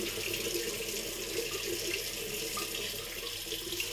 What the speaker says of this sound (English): under the running water